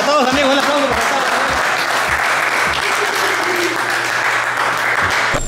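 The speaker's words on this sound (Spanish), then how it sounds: "Así que un aplauso para todos, amigos." Group applause for participants at a 2023 gift exchange, clapping loud and sustained throughout with a voice talking over it in the first moments.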